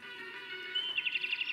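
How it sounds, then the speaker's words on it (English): High bird chirps in quick succession, growing brighter and more rapid toward the end, over a steady background hum. "It's a bird."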